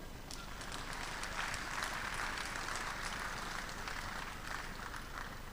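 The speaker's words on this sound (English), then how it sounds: "The clap is not enough." A crowd applauds steadily throughout at a send-off ceremony, a dense, even patter of clapping heard from a distance.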